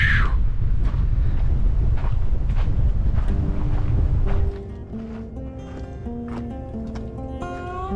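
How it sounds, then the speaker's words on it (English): On a hiking trail at Sunset Rock on Lookout Mountain, strong wind roars against the microphone for several seconds, then eases to a lighter steady blow as faint tonal sounds come through. "It's windy."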